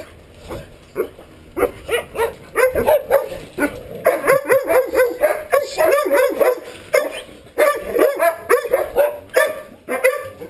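Several dogs bark repeatedly in excited, overlapping bursts, some yips and higher whines mixed in, moderately close.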